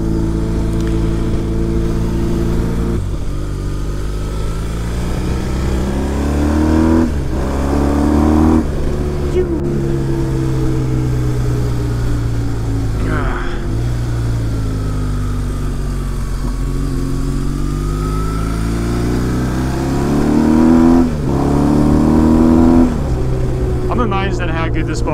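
Motorcycle with almost 60,000 kilometres on it, engine accelerating and shifting through gears while riding, a loud continuous drone that rises and falls in pitch with wind rush throughout.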